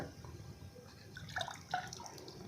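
Water drips and trickles at a perennial rock spring on Alagar hill, a few faint, close drops and gentle splashes over a quiet background, with two brighter plinks near the middle.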